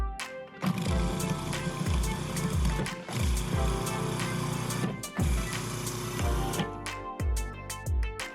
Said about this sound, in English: I'm going to start by adding all of my dry ingredients to my food processor and then blend them.